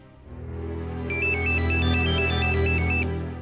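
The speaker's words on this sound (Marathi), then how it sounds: "कोणाचा फोन आहे? कटका करतोय सारखा?" A mobile phone ringtone plays in a quiet indoor scene from a Marathi TV drama. A bright, repeating electronic melody rings clearly for about two seconds over a low background hum.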